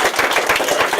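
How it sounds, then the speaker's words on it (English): Audience applause at a Human Rights Week disability talk, a brief dense burst of many hands clapping, loud and close with no talk over it. "Round of applause."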